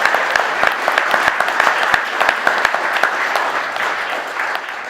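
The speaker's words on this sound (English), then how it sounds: "Can we have a round of applause, please," An audience in a town hall claps for a speaker, with loud, dense applause running steadily and tapering slightly at the end, heard without talk.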